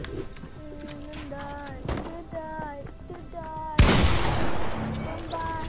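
Gunfire rings out in a Fortnite creative fill match: scattered shots and tonal game sounds, then a loud, sharp burst of fire that tails off into noisy echo, with a voice talking briefly.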